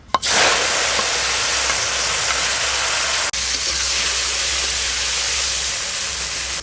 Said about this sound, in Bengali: এবার চিংড়ি মাছগুলো খুব ভালো করে ভেজে নেব।